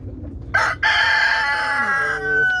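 A rooster crows loudly and close, one long drawn-out call, preceded by a short clucking note.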